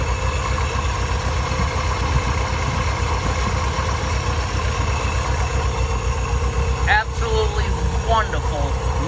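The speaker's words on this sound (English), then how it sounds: "Listen how nice this motor runs. The only thing you can hear is just the pulley." A 1955 Chevrolet Bel Air convertible barn-find survivor with a 4-barrel setup idling smoothly, a steady low engine hum with a faint pulley whir, and a brief clatter near the end.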